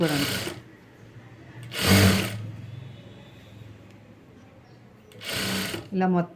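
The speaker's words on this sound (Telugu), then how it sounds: "స్టిచ్ చేసుకుంటూ వెళ్ళిపోవాలి" A sewing machine stitches the self piping along a plain blouse fabric in three short bursts, near and fairly loud, with quiet pauses between them.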